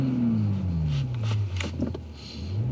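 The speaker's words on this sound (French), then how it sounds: "vous entendez le son du moteur" A Toyota Supra's 3-litre turbocharged six-cylinder engine runs with a low drone that sinks in pitch, then rises again near the end, close and fairly loud.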